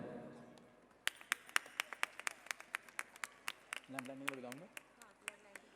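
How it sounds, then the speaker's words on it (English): Scattered, fairly sharp claps from a small audience at a school academy's annual function, about a dozen distinct hand claps spread over several seconds, with a brief voice partway through. "Kindly give a big round of applause for them"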